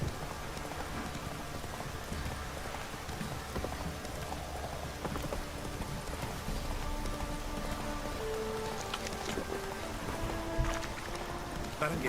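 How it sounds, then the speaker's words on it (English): A steady heavy downpour hisses and patters throughout a Witcher 3 game scene, with faint hoof clops, creaks and brief tones mixed into the constant rain wash. "This downpour's a bastard in it."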